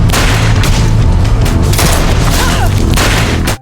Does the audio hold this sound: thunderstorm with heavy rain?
no